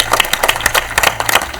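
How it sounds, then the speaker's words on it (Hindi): Audience applause at a televised current-affairs quiz show final round, a dense patter of many hands clapping close by, steady and lively across the short stretch. "जोरदार तालियां।"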